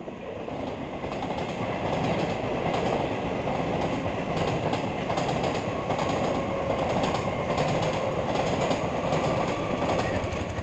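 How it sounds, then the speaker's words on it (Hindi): A train rumbles past nearby, a loud, steady roar of rolling wagons and clattering wheels that holds for about ten seconds with no speech. "अभी एक ट्रेन भी आ रहा है"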